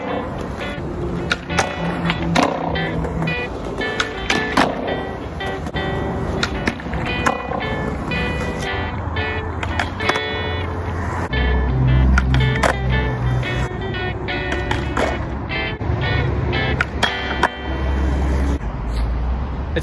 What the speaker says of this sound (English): I'm not used to skating in the morning